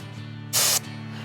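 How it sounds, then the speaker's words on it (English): A Counter Assault inert bear spray training canister lets out one loud, sharp hiss of about a quarter second that cuts through a steady low background hum. "apply short bursts of the spray."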